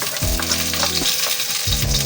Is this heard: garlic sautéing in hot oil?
yes